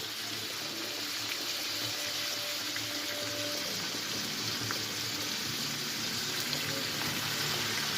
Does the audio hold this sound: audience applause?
no